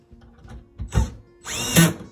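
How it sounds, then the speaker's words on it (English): A power drill drives screws into IKEA PAX wardrobe door hinges in two short whirring bursts separated by a pause, the second longer, close and fairly loud with no talking. "now I drill it"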